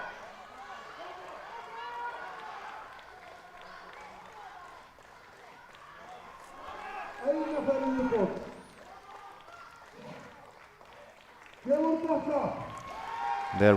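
Crowd at Iceland's Strongest Man 2022 cheers strongman Páll Logason during the yoke event, with loud bursts of shouting and roaring rising over a commentator's ongoing talk.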